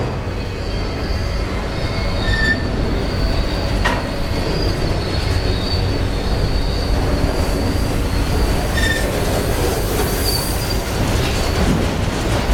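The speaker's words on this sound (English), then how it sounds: "I'm about 10 feet from the train." Train cars rolling along railroad tracks about ten feet away at the Whitefish depot, a steady loud rumble with wheel squeals and clicks running throughout.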